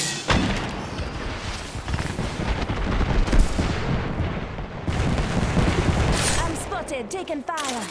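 Sustained, rapid gunfire fills an Apex Legends firefight with loud, dense crackling and booming shots that barely pause, and a voice talks over the shooting.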